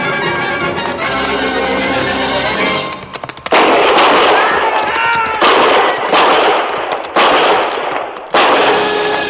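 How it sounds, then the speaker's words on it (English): A volley of gunfire from a frontier-era radio drama: rapid, dense bursts of shots, loud and close, with short pauses between clusters and no talking. "I knew from the sound of that first volley what had happened."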